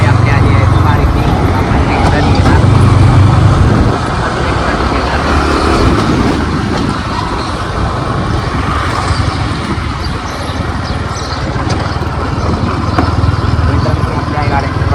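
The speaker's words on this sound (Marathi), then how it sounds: "जाता जाता सकाळी सकाळी लागले आपल्याला ट्रॅफिक" Morning road traffic rumbles steadily with a dense mix of cars and motorcycles passing close by, a continuous loud roadway wash with engines rising and falling throughout.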